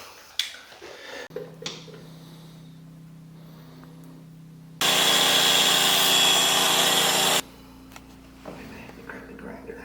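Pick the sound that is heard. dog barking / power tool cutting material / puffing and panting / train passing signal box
power tool cutting material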